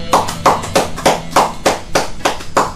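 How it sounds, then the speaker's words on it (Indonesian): Applause for a guest at a roadside coffee stall: a small group clapping in loud, rhythmic bursts, close by and with no talk over it. "Tepuk tangan dong buat Bang Bontot dong."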